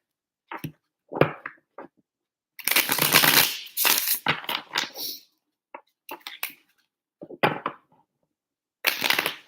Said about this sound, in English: Hold on, let me shuffle this deck.